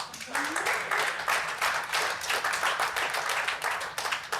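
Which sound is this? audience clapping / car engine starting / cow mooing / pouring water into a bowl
audience clapping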